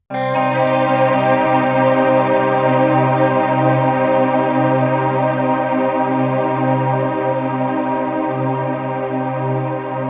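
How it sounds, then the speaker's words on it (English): A sustained, swelling guitar pedal drone processed in Kontakt and washed in heavy reverb, steady and loud throughout, with slow pulsing in the low end and no other sounds. "the sound after this reverb."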